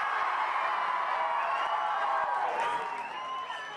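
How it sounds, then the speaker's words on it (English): A large stadium crowd roars and cheers for footballer Jack Grealish at the Etihad Stadium, a loud, sustained wall of voices and whoops from many fans that holds steady, then eases slightly near the end. "please give a massive cheer"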